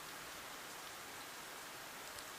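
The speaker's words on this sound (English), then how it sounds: "the sound of the rain against the window grows steadily louder" Video-game rain beats against a window as a soft, steady hiss of drops, faint and continuous with no voices over it.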